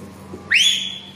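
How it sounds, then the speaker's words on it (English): A single sustained whistle blast used as a cease-fire signal during army small unit tactics training, loud and close, rising sharply then holding a steady high pitch over a low background hum. "On the long whistle means cease fire."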